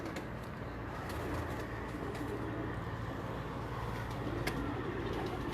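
Grey pigeons in a breeder's loft coo steadily beneath a dense, noisy background hum, with faint clicks scattered throughout.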